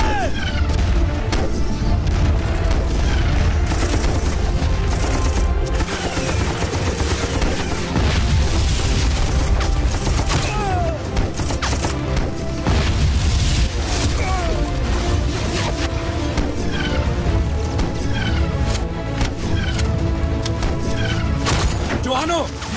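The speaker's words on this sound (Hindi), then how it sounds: "सर इस तरफ से हैवी फायर हो रहा है सर।" Heavy gunfire and booming explosions fill a war-film battle scene set in the 1965 India–Pakistan war, dense and continuous throughout with bursts of crashes and shouted voices mixed in.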